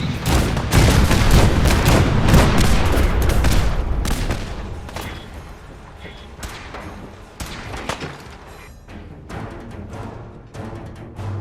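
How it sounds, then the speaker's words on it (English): Cannons aboard the wooden warship USS Constitution fire a rapid volley of warning shots in the game Fallout 4, heavy booms and thuds piling up loud at first, then scattered fainter blasts trailing off. "Soldier, man the cannons."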